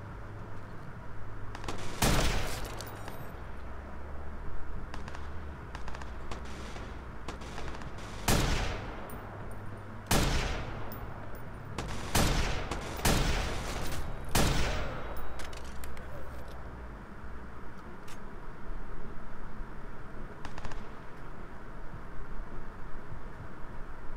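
Gunfire in the video game Watch Dogs: several sharp bursts of shots crack out over a steady background hum, clustered in irregular volleys with quieter gaps between.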